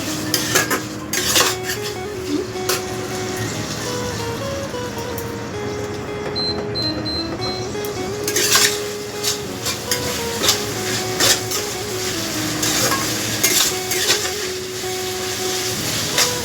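Lotte fish (Bombay duck) going into a pan and being stir-fried for a spiced jhuri dish: a metal spatula clinks and scrapes steadily against the pan, close and fairly loud, with no clear sizzle.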